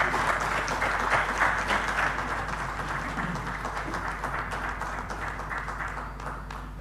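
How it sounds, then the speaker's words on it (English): Applause from an audience at a Nigerian governance forum, fairly distant and moderate in level, steady then slowly fading, with a low constant hum beneath. "Please give him another round of applause."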